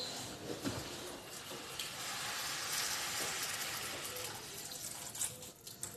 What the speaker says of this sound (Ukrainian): Шкварчить.